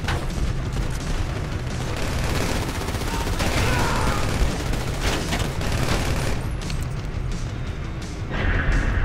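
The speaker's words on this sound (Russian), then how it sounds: "сверху по нам стреляют" Sustained gunfire in Grand Theft Auto V, with dense, continuous bursts and heavy shots from rooftops above, filling the whole stretch loudly with barely a pause.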